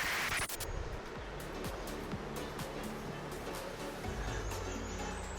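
A waterfall near a coastal trail in Nova Scotia makes a steady broadband rush, with scattered clicks and knocks layered over it throughout.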